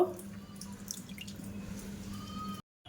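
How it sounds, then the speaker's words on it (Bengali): Water is poured into a semolina and yogurt batter in a bowl, making a steady, close, trickling splash for a few seconds before stopping abruptly. "এবার একটু জল দিয়ে দেব"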